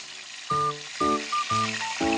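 Oil sizzles steadily as large pieces of pork belly fry in a pan, with regular tonal blips sounding every half second over the crackle.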